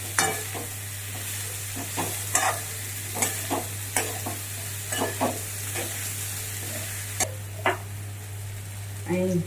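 Raw banana dry curry is stirred in a hot pan, the spoon scraping and knocking in repeated strokes over a low, steady sizzle and a constant hum, without any talk.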